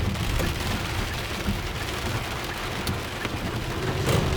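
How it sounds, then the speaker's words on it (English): Heavy rain pounds steadily on a car on a university campus, a dense close drumming wash with a few sharper drop hits and no talk. "It's pouring in the UM campus."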